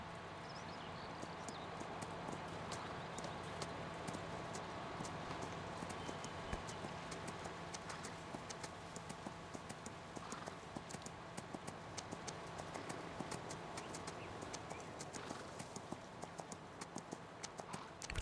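Steady clip-clop of horse hooves from a ridden horse in the farming game Landwirtschafts-Simulator 19, a continuous even rhythm at moderate volume with faint ambient background.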